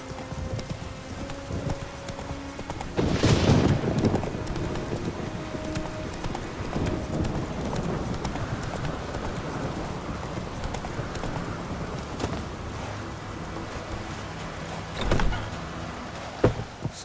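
A horse gallops in The Witcher 3 video game, its hooves making a steady, rhythmic clip-clop. A louder burst of hoofbeats early on gives way to a constant, moderately loud beat with occasional thumps.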